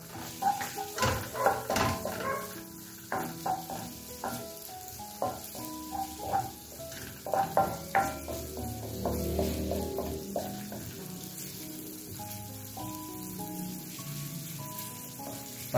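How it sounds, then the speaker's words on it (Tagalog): Onion sautéing in olive oil in a pan crackles and sizzles, with knocks and clatters of stirring early on, then settles into a steadier hiss. "Igisa muna natin yung mga ingredients, mga gulay-gulay. Olive oil. Healthy naman yan Onion. Lagyan natin onion."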